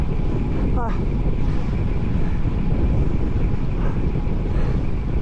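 Strong wind roars across the microphone on a long bike ride, a loud, constant buffeting rush that fills the whole stretch, with a brief squeaky chirp early on.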